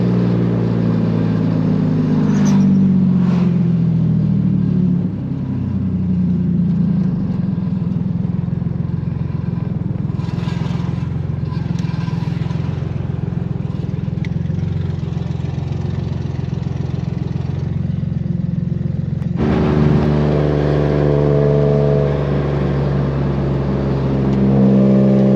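Nissan Maxima with a six-speed manual and swapped 2018 engine revving past 3,000 RPM on a drive, a loud steady engine drone that holds, then climbs sharply in a fresh surge of acceleration near the end.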